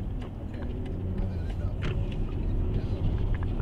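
Deep, steady rumble of a BMW 340i twin-turbo V6 engine idling or cruising, heard from inside the car with faint voices mixed in.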